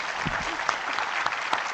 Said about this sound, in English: A big round of applause for our Minister